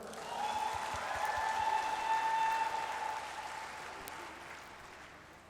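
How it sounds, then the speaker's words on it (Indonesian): A crowd at a university ma'had gathering gives a moderate round of applause that swells and then slowly fades, heard at some distance over a faint steady tone. "Tepuk tangan dulu dong."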